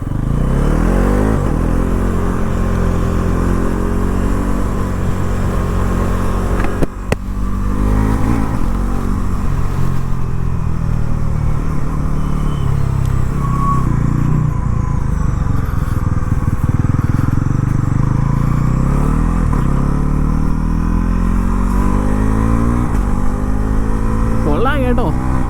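A Bajaj NS 400 Z motorcycle riding on the road, its engine droning loud and steady throughout with rising pulls under acceleration and strong wind rush, while a rider talks over it.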